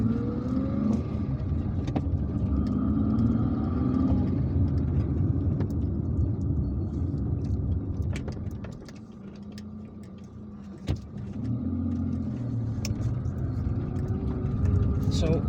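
A car drives along a road through forested hills near Algiers in Algeria, its engine and tyre noise a steady hum under close talking, with a brief dip and a sharp click partway through.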